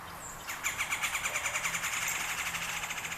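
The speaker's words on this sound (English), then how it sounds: "I have my sparrows, my towhee, that's a towhee there," Morning birdsong from towhees, sparrows and cardinals, with a rapid run of repeated bright chirps pulsing in a steady rhythm. The calls are fairly close and clear, with no talking.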